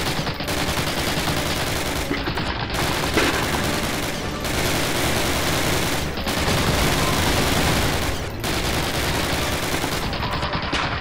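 Dense WWII-era gunfire in a war video game, loud sustained bursts of rifle and machine-gun fire roaring almost without pause, broken by a few short gaps, with little speech.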